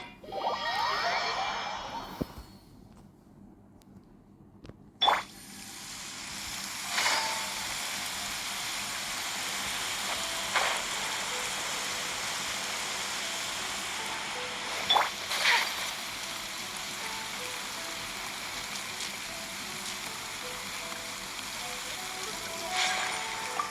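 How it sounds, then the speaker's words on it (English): Steady rain hisses in Genshin Impact, a continuous wash of falling water broken by a few sharp splashes and clicks, with game chimes and sounds at the start. "And it's raining again."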